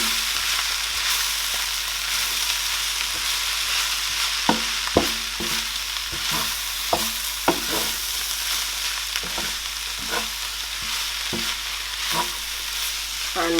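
Scotch bonnet pepper stirred into vegetables frying in a pan, a steady bright sizzle running throughout with repeated sharp scrapes and clacks of the spoon against the pan, close and alone with no talking.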